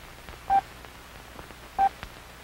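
Two short, evenly spaced Morse code dits sent on a hand key, each a brief steady tone standing out from a quiet background hiss.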